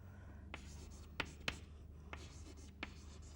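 Handwriting during a quantum mechanics lecture: soft, close scratching strokes of a pen or chalk with a few sharper taps, over a low room hum.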